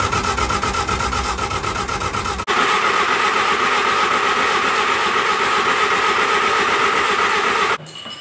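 An engine running on methanol fuel cranks over with a steady, loud mechanical drone that shifts slightly partway through and cuts out near the end.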